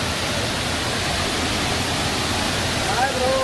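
Roaring waterfall at Savatkada, Murud, running under high water pressure: a loud, steady broadband rush of falling water that fills the whole clip without a break.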